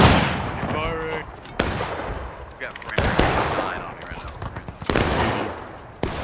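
Rifle fire in the Civil War game War of Rights rings out as several loud, sharp cracks spaced a second or so apart, trailing into echoing reports amid battlefield noise.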